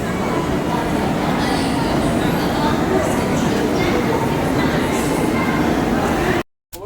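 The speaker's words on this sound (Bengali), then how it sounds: "ট্রেন ঢুকে গেছে। আমরা দাঁড়িয়ে আছি এখন দিল্লি স্টেশনে।" A train standing at platform 6 of Delhi railway station gives a steady, loud rumble of engine and station noise, continuous and dense throughout, ending in a brief cut near the close.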